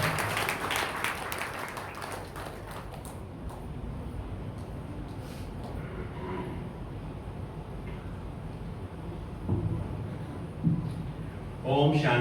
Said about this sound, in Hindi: एक बार तालियों से उनका स्वागत कीजिए